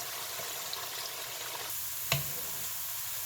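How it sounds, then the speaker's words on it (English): Ingredients for jeow bong spicy pepper paste fry in hot oil with a steady, dense sizzle close up, broken by a single brief clink of a utensil against the pan. "then you wanna get this to fry up till it's golden brown"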